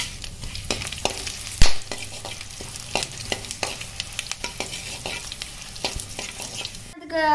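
Cinnamon, clove and cardamom frying in hot oil in a pan, a soft crackling sizzle broken by repeated sharp scrapes and taps of a spoon stirring, close up, with a louder clatter near the end.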